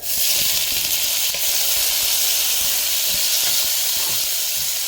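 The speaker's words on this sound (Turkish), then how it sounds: "Aynı tencerede soğan da kavuruyorum." A continuous hissing sizzle of onions sautéing in a hot pot, with faint scraping stirs underneath, close and steady throughout.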